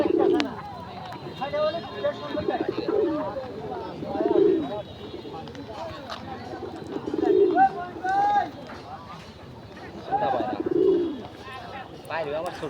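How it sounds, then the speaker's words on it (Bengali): Pigeons coo in repeated low, rolling calls spaced a few seconds apart, with chirps and faint voices mixed in around them. "আমরা পাঁচ পাঁচটা পায়রা নেব এবং ডাক দেখব"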